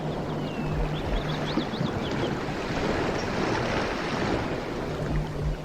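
Sea waves wash steadily around a rowing boat on open water near a coast, a continuous close roar of surf and wind with faint high creaks drifting above it, with no voices.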